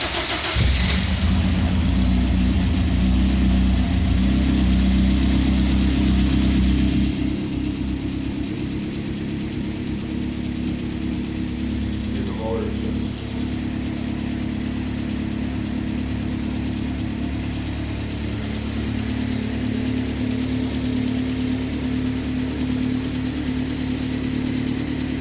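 A 2010 Caterham Seven Superlight R400 engine cranks and catches on a cold start, revs loudly at first, then drops after several seconds to a steady, rumbling idle that holds close and constant.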